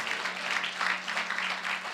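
A church congregation claps during a service, a steady ragged patter of many hands at moderate distance over a low constant hum, with no speech.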